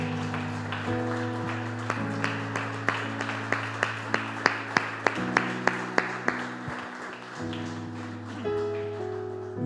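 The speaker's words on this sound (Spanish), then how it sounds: "Dele un aplauso al Señor, mi hermano y mi hermana." A church congregation claps in a steady rhythm over sustained keyboard music during a Spanish-language worship service. The sharp, evenly spaced claps build in the middle and then fade back under the music.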